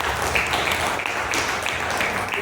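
An audience at a seminar in Vasco, Goa claps for their guru. The applause is a dense, continuous patter that fills the whole moment at an even level.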